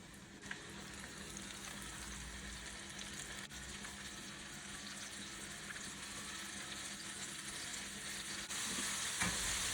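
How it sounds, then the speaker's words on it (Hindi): Chicken pops deep-fry in medium-hot oil, a steady hissing, bubbling crackle that holds for several seconds and swells slightly louder near the end. "चलिए अब इसको एक एक डाल के फ्राई कर लेते हैं।"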